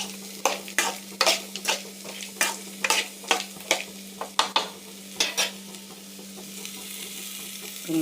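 Grated beetroot is stirred and sautéed in oil in a pan, the spatula scraping in repeated sharp strokes over a soft steady sizzle. The stirring stops and the pan keeps sizzling quietly at the end.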